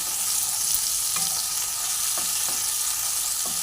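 Ginger paste and spices sautéing in a pan for koi fish curry with cauliflower, a loud continuous sizzle with several sharp spatula scrapes spaced through it, no voices.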